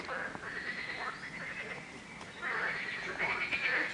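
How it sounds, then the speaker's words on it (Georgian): A chorus of frogs croaks continuously outdoors at Lake Bateti, Georgia, a dense, warbling rattle with some calls louder and closer than others. "ბაყაყები ყიყინებენ"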